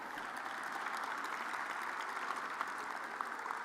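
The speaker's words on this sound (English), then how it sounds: "Ladies and gentlemen, a round of applause for Rick Cole." Distant applause from the audience at a university athletics award show, a soft, even wash of clapping with no voices over it.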